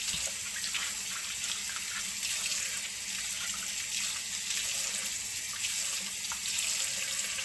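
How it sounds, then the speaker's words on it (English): Tap water runs steadily into a sink while fresh-picked corn is scrubbed under it with a stiff-bristled brush, a constant close hiss at moderate volume with no talking. "I do it under the running water."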